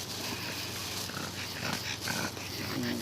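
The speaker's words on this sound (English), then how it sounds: "Fucking dog, man." A dog growls and snorts in a steady, close, continuous rumble with a few rougher bursts, mixed with broadband background noise and no clear individual barks.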